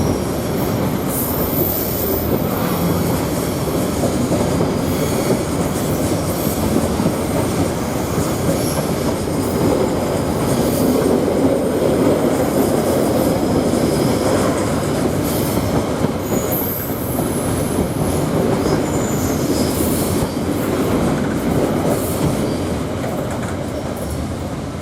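Freight train from an energy-from-waste terminal passing through Thornaby railway station, UK: a loud, continuous roar of rolling wagons with wheel squeal and clattering along the rails, sustained close by throughout.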